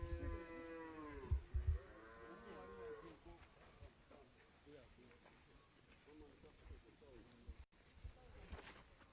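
Milking cows on a farm low with two or three long, drawn-out moos near the start, followed by quieter farm ambience and faint talk in the background.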